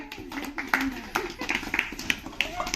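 Hands clap in scattered, uneven bursts during a haldi kunku party game, several people joining at once amid lively chatter and voices talking over the claps.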